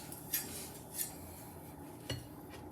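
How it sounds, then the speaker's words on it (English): A knife working through a piece of Jamaican jerk beef on a plate, a few quiet scrapes and taps of metal against the dish at irregular moments, faint and close. "let me cut a piece and show you guys. Let me get my knife here"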